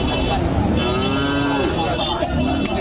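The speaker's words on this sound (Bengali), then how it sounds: "এই যে এগুলা ভালো মানের কিছু বাছুর আছে এখানে" Friesian calves at a rural cattle market moo in long, drawn-out calls over a continuous din of crowd and livestock noise.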